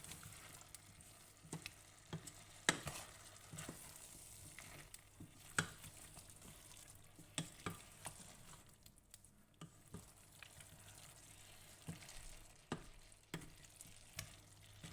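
Provençal daube stew with coriander, garlic and spices simmering in a pot, giving a steady close sizzle and bubbling with scattered small pops and ticks throughout, no voices.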